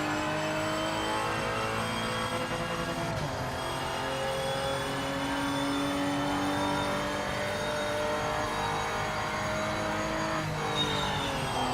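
Race car engine in the Project Motor Racing video game, a steady droning whine with gear changes and pitch shifts as it downshifts, continuous and prominent throughout.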